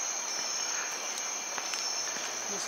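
Insects in the Amazon forest near Puyo, Ecuador, chirr in a dense, continuous high-pitched drone. Faint scattered clicks rise and fall beneath it, with no talking.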